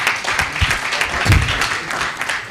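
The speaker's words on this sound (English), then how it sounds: "a round of applause for RMRDC" A conference audience applauds in a short burst, many hands clapping at once, with a few sharper claps standing out nearby.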